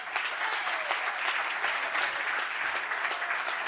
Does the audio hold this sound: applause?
yes